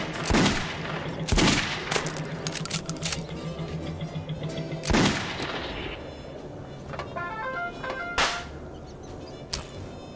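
Bullets picked up in Metro 2033, heard as sharp metallic clinks and pickup chimes with a few loud impacts over a dim ambient background.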